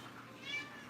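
A house cat gives a single short, faint meow close by, with little else around it.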